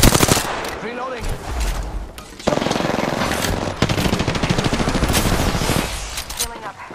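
Rapid automatic gunfire from a shooter in Apex Legends, a battle-royale video game, crackles in dense bursts with brief pauses, loud and close, while a voice speaks over parts of it.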